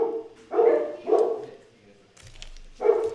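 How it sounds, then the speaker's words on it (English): Dogs bark in three short, loud barks close by at a Halloween gathering, with a brief rustle between them. "I'm gonna show you guys the dogs."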